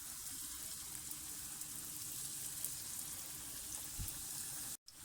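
Chicken black pepper pocket samosas frying in very hot oil, giving a steady broadband sizzle that runs unbroken and fairly loud, with no talking.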